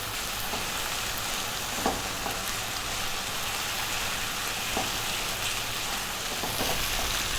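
A tablespoon of Thai red curry paste sizzles steadily in a hot pan for a beef curry, with occasional soft scrapes of stirring over a constant frying hiss and no talking.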